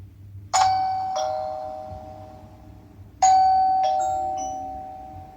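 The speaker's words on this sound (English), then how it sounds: "chime that you get with the doorbell is not the only option that you have" Wyze Duo Cam Doorbell chime ringing twice, each a bright two-tone ding-dong struck loud and close, with a long ringing decay between strikes over a faint low hum.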